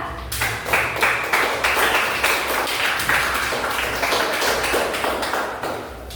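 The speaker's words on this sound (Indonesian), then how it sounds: "Beri tepuk tangan kelompok 3." A classroom group claps to applaud a group's presentation, a dense, continuous round of applause with a few sharper taps in it. No one speaks over it.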